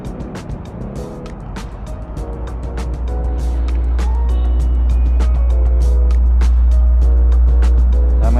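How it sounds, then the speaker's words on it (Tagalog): Heavy road traffic rumbles on EDSA near SM Megamall, a deep constant engine drone building louder over several seconds, with ticking clicks and brief horn-like tones layered on top and no talking. "Traffic ngayon sa EDSA"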